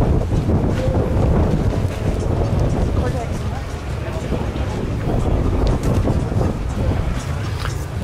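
Gusty wind buffets the microphone outdoors at a barbecue gathering, a steady loud low roar across the whole stretch, with voices faintly mixed in.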